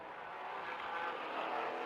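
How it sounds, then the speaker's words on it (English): Flat-six engine of a Porsche Cayman racing at Aragon, a steady broadband engine roar held at even, moderate loudness with a slight swell, fairly distant and without talk. "Love the sound of that Cayman. Of course, flat 6 power."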